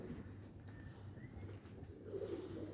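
Jacobin pigeons cooing at a club show, soft low rolling coos close by over a quiet indoor hum, with no talk during the calls.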